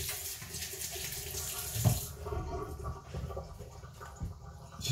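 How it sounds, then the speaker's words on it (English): A kitchen tap runs steadily into a sink during handwashing, a continuous close, moderately quiet splashing stream with a few brief clunks and shifts in the flow. "Just while I wash my hands, so I'll be back in a few minutes."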